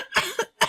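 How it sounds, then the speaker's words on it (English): Three quick, close coughs in a short burst, the last slightly separated from the first two. "and I end up coughing."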